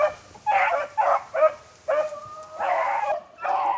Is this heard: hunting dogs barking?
yes